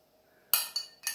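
A spoon clinks against a cocktail glass while vegan chocolate mousse made with chickpea juice is served, giving three bright, close taps in quick succession with no speech.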